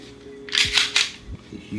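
Pistol slide release on a Canik TTI Combat handgun snapping, a few sharp metallic clicks and snaps in quick succession, close and fairly loud, with faint handling noise around them.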